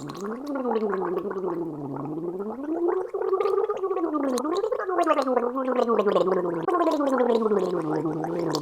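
Someone gargles water while voicing a sliding pitch, a bubbly rattling tone rising and falling in long sweeps, close and continuous.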